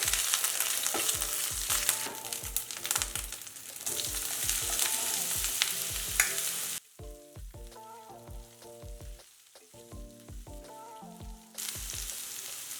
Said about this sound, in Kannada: ಎರಡು ಹಸಿಮೆಣಸಿನ್ಕಾಯಿ ಉದ್ದಕ್ಕೆ ಸೀಳ್ಕೊಂಡಿರೋದು ಅರ್ಧ ಟೀ ಸ್ಪೂನಷ್ಟು ಶುಂಠಿ ಪೇಸ್ಟು